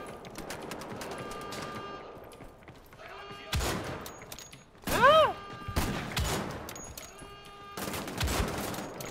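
Bursts of gunfire from a first-person shooter video game using an accuracy-focused weapon: a few sharp, loud volleys separated by quieter stretches, set against a faint musical game background.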